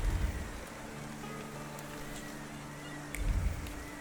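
Rain falls in the video game The Thaumaturge as a soft, even hiss of drops with a low rumble underneath, steady for several seconds and quieter in the middle.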